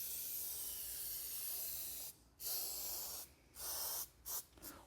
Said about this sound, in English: So we're just going to lightly spray that. We're going to spray our valve cover gasket, our valve cover